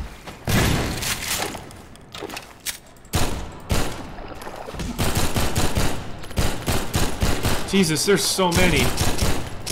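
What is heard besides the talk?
gunfire in video game Half-Life 2 Episode 2 MMod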